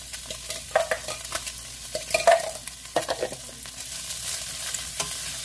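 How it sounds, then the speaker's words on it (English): Sliced onions sauté in a hot pan, giving a close, lively mix of sizzling crackle and scraping stirs, fairly loud and continuous, with no talking. "going to saute them until they get translucent"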